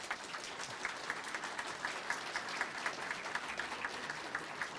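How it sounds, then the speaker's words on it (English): Audience applause at a 2018 political debate in Trenton, a steady crowd of clapping hands filling the room with a dense, even patter, no talking over it. "Can we have a round of applause for both of our candidates,"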